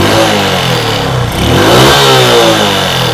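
Suzuki Smash 115 cc motorcycle engine revving steadily after carburetor maintenance, a loud, close, continuous drone that rises and falls through the throttle with no pauses.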